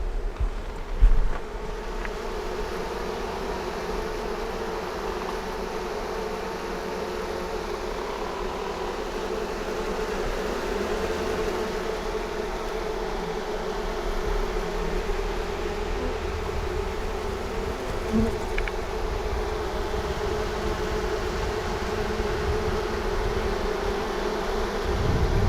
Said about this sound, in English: Man, they were just buzzing. You hear them?